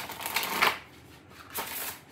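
Witch's Familiar Oracle cards are shuffled up close in two quick riffling bursts separated by a short pause, crisp and moderately loud.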